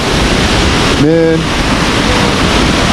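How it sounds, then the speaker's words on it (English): A big waterfall in a forest near Thika roars as a loud, dense, constant rush that fills the whole clip, with a man's brief exclamation over it. "A very famous waterfall here in Thika"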